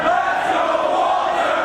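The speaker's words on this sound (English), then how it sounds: "you hear the crowd dueling chants back and forth for both men" A wrestling crowd at a Ring of Honor event roars in a dense, steady wall of chanting voices, loud and continuous through the short stretch.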